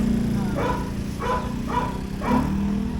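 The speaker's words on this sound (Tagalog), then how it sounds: "Ang aso na malaki." Barks from a big dog, four short evenly spaced calls over steady outdoor background hum, moderately close, with no talk.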